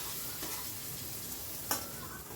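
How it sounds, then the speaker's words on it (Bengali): Garlic and tomatoes fry with a soft, steady sizzle in a pan, heard faintly, with one sharp clink of stirring near the end. "এইভাবে নাড়াচাড়া করে করে আমি সবগুলো ভেজে নিচ্ছি।"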